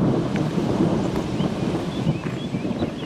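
A thunderstorm on the Camino trail delivers a steady wash of heavy rain and low rumbling, with wind buffeting the microphone throughout.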